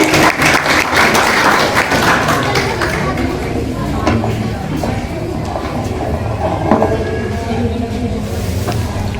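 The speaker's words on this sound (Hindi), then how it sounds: "मैं चाहूंगी जोरदार तालियों से अंजलि का स्वागत कीजिए।" Students and teachers at a school event marking Savitribai Phule's birth anniversary give a dense, sustained round of clapping as a student speaker comes up. A voice talks over the applause as it fades a little toward the end.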